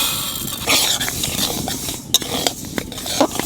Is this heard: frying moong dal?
yes